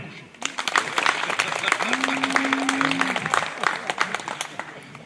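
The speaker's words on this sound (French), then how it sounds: "On peut l'applaudir." An audience at a carriage-driving championship prize-giving in Sainte-Euphémie claps steadily for several seconds, a dense patter of applause with a sustained tone and some voices underneath.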